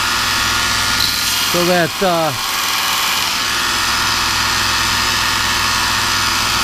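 Buck 110 knife scales are sanded to fit, giving a steady, loud, continuous grinding drone that runs the whole time, with someone briefly speaking over it.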